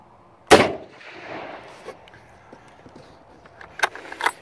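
A Remington 1903 A3 bolt-action rifle fires one sharp, loud shot outdoors, followed by a faint rolling echo and small scattered knocks and handling sounds afterward.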